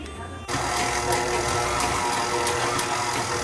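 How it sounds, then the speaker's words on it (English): An electric mixer beating brown sugar and butter for a Jamaican rum cake, a steady whirring motor drone that starts abruptly and runs continuously, loud and close, with faint clicks over it. "So the mixer is mixing the sugar, right?"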